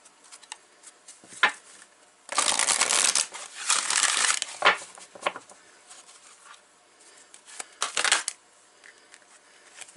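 Tarot cards from the Psychic Tarot deck being shuffled and handled, loud bursts of riffling cards close up, with softer flicks and taps between them.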